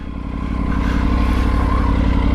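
Triumph Tiger 900 motorcycle engine running steadily close by as the bike sets off, a loud continuous mid-pitched drone with a slight rise in revs and no voices.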